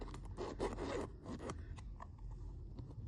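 Scissors snip through fabric while cutting a small circular pad for a handmade fabric rose brooch, a quick run of close, crisp cuts and rustles followed by quieter scattered snips, with no talking.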